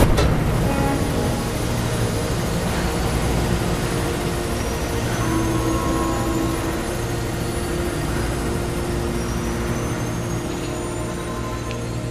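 Helicopter in the Mirror's Edge video game, a steady loud rotor and engine drone with low rumbling throb filling the whole stretch, no speech over it.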